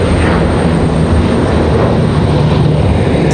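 A Delta Boeing 737 airliner moving at Raleigh-Durham International Airport, its engines giving a loud, steady broadband roar that holds evenly throughout with no voices.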